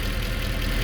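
A 2014 Mercedes C63 engine runs steadily on its first start after lifter work, a dense, even mechanical drone heard close and alone.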